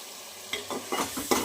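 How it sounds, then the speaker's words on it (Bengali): Pangas fish pieces poured into a hot pan for a thin fish curry, giving a quiet sizzle with a few soft stirring scrapes and clinks spaced through the short moment, close by with no talk. "এবার আমি পাঙাশ মাছগুলো ঢেলে দিচ্ছি"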